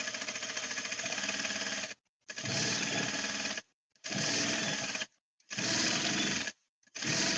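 A sewing machine stay stitches fabric in several loud, buzzing runs of about one to two seconds each, separated by brief silent pauses. It is close and no one talks.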